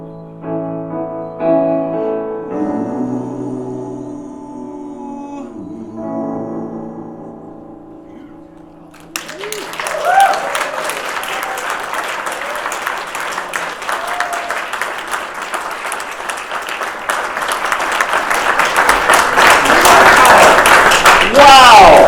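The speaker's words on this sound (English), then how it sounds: "Let's give them another round of applause." A song at a playwrights' awards ceremony ends on sustained held notes, then the audience bursts into loud, dense applause that swells and keeps building to the end.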